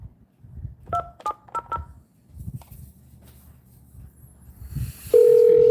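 A phone is dialed with four quick touch-tone beeps, then a pause with faint background noise, and then a steady tone starts up loudly.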